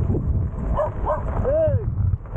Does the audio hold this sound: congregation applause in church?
no